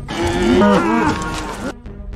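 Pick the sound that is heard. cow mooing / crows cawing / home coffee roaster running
cow mooing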